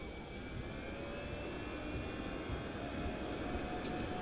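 Jet engines of a Toliss A21N airliner in the X-Plane 12 flight simulator spool up to takeoff thrust on the runway, giving a steady broad roar with a faint rising whine, held evenly and alone.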